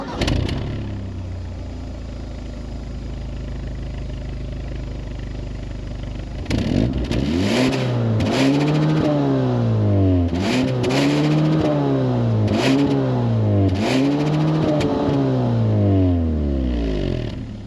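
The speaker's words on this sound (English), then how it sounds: "I'll fire the engine up. You guys can hear what it sounds like real quick." A 2021 Kia K5 GT with the 2.5-litre turbo engine and a genuine quad-tip exhaust starts up outdoors. It settles briefly, then gets a series of about five quick revs that rise and fall in steady succession, loud and close.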